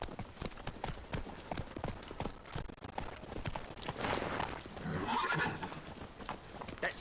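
Roach the horse galloping in The Witcher 3, with a fast, steady clip-clop of hooves and a neigh partway through, under game voices and speech.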